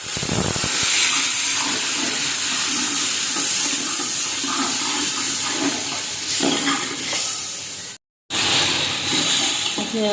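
Water is poured into a hot pan of browned, spiced onions, giving a loud steady hiss and sizzle that runs through most of the clip, with a short cut near the end.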